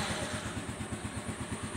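A freshly restored old motorcycle engine runs close by with a steady, rhythmic thumping idle and a faint mechanical clatter, with no talking.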